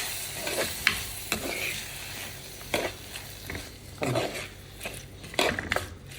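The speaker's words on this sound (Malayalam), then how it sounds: "അപ്പോൾ ഈ രണ്ട് തക്കാളി മുറിച്ച് വെച്ചത് നമുക്ക് ഇതിൻ്റെ അകത്തേക്ക് ഇട്ട് കൊടുക്കാം എന്നിട്ട് നല്ലപോലെ ഇതിന് മിക്സ് ചെയ്ത് കൊടുക്കാം" Chopped tomatoes are stirred into a sizzling coconut fish curry base in a pan, with a spoon scraping in repeated strokes over a steady close frying crackle.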